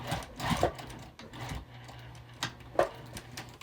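A sewing machine stitches a quilted bag pocket in short bursts of rapid mechanical clatter, close and moderately loud, with pauses between runs and no speech.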